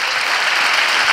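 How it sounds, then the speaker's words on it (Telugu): A church congregation claps hard and steadily during a Telugu Christian sermon, a dense, continuous wash of many hands at close range with no voices on top. "చప్పట్లు కొడదాం గట్టిగా"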